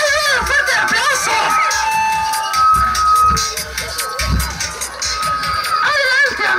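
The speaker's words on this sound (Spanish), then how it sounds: "¡Fuerte aplauso!" At a children's party show in Quilicura, a crowd cheers and claps as performers are welcomed on stage, with shouting children and loud music-like tones mixed in, rising and falling throughout.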